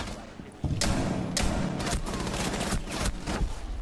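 Gunfire in the video game Rainbow Six Siege, heavy booming shots and thuds in a dense, loud burst after a brief lull, with a shotgun used in close-quarters fighting.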